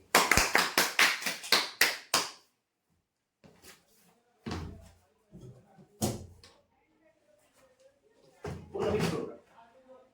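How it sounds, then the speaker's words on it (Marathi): Brief bursts of hand clapping from a small group at a weekly prize draw ceremony, roughly a dozen quick claps in the first two seconds, then scattered knocks and thumps with quiet gaps. "जोरदार टाळ्या होत्या त्यांच्यासाठी"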